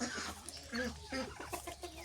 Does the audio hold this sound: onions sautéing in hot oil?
no